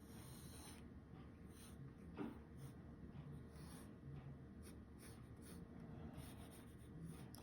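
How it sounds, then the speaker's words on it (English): A pencil scratches quietly across paper while a fish is drawn: soft, faint rasping strokes in short bursts against a quiet room. "And then I'm going to draw my fish."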